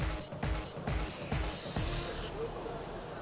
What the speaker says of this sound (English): If you had used this spray-on liquid film,